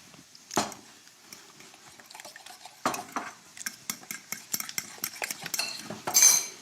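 A fork mixing fish terrine ingredients in a bowl, with quick irregular clinks and scrapes against the dish that grow denser and louder toward the end, close and without talk.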